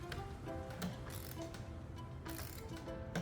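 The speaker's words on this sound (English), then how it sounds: "Working with your 10mm socket." A ratchet with a 10mm socket tightens an ignition coil screw on a 2019-2024 Nissan Versa 1.6L, giving quick, close clicking bursts in several short runs.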